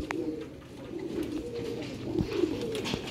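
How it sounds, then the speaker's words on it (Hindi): Sialkoti pigeons coo softly at close range, a low, steady rolling murmur from several birds running on without pause, with brief clicks and shuffles around them. "नायाब ते ब्रांडेड सियालकोटी चूहे कबूतर"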